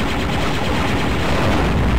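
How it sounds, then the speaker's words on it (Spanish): Gunfire from a Star Wars Dark Forces mod of the video game Doom comes as a loud, dense burst of rapid blasts that merge into continuous noise for about two seconds. "Los disparos."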